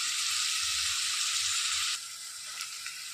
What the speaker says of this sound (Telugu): సన్నగా తరిగి పెట్టుకున్న ఉల్లిపాయలు వేసేసుకొని వేయించుకోవాలి